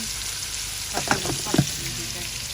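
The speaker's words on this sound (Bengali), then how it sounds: "ওই জায়গার মধ্যে আরেক চুলাতে গোস্ত হইতেছে এখনো শেষ হয় নাই" Meat frying in a pot on a stove gives a steady, close sizzle throughout, with a few brief stirring clatters in the middle.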